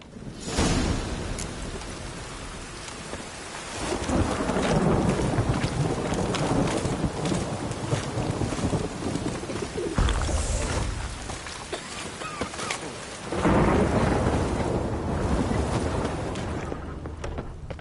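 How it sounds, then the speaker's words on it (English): Rain and rolling thunder in The Witcher 3 fill a dense, steady wash of noise, swelling at several points with deep rumbles, with no talk over it. "Oh, aye, rain. Perfect."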